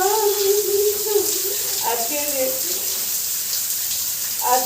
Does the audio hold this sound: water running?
yes